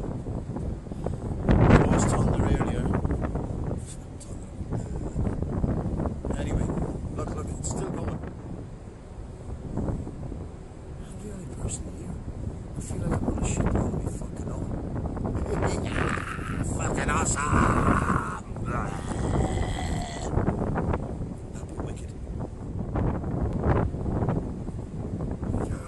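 Gusty wind buffets the microphone outdoors as rain starts again, a steady rough rumble with swelling gusts throughout, while someone speaks over it.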